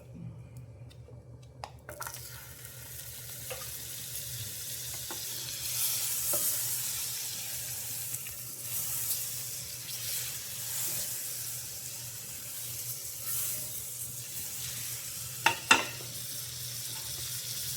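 Butter sizzles in a pan heated on the stove for frying fish, a quiet continuous hiss with a few soft clinks and scrapes, no talk.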